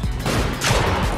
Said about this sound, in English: Oh, this is such a weird gun.